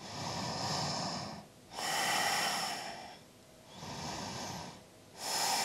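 Slow, deep breaths during a gentle vinyasa yoga practice, about four full inhale-exhale cycles heard up close, each long airy breath separated by a brief pause, with no talking.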